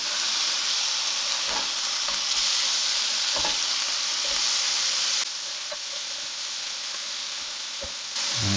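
Slider patties sizzling in a pan right after flipping, a steady bright frying hiss throughout with occasional soft clicks and taps of a utensil, no talking.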